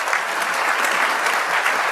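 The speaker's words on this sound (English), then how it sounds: "Round of applause to the sponsor of this event." Conference audience at an electric vehicle standards keynote applauding, a dense, even wash of many hands clapping steadily for a short stretch with no voices.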